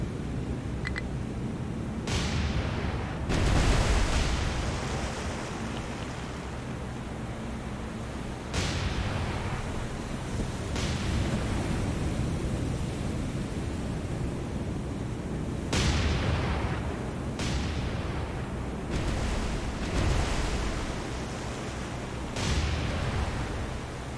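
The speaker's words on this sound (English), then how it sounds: "might as well just drop all the torpedoes we can. Go with a 4-degree spread. Fire the torps." Torpedoes fired from a warship in the naval combat game War On The Sea, launched in a spread: loud, dense rumbling launch thumps repeat every few seconds over a constant broadband roar, with no talking.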